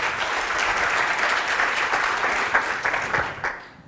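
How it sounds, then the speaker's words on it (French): Sustained audience applause at a talk on emotional intelligence, a dense even patter of many hands clapping that fades out at the end. "Applaudissez-vous."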